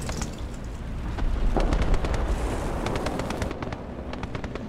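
Leopard 1 tank in a video game firing its main gun, with a loud boom that rolls into a sustained rumble and battlefield din, repeated sharp reports sounding over the top.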